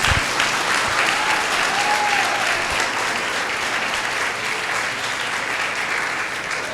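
A church congregation applauds steadily and fairly loudly throughout, a dense even wash of clapping with no talk over it.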